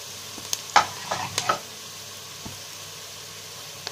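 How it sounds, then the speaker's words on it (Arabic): Cow trotters fry with onion in a pan: a spoon stirs with a few sharp clinks and scrapes over a faint, steady sizzle, with no voices. "هنا كده هنحط الكوارع بتاعتنا"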